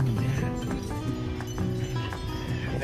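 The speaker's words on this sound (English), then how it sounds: "they got a lot of horse carriages up here" Hooves of carriage horses clip-clop along a street in a busy tourist area of Mexico, a quick steady rhythm of close, loud hoof strikes over the street's background noise.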